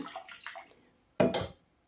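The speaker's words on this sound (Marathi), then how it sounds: "रुद्रयंत्र आहे तर ते सुद्धा मी स्वच्छ पाण्याने धुवून घेणार आहे" Clean water splashes and pours briefly while a metal ritual yantra is washed, with a soft trickle followed by a short, louder close splash.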